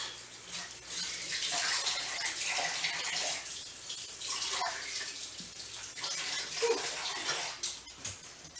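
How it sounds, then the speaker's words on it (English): Tap water runs steadily into a kitchen sink while zucchini and other vegetables are rinsed for a baked sausage and rice casserole, a continuous close splashing hiss with small shifts as the produce moves under the stream. "Rinse these off real quick."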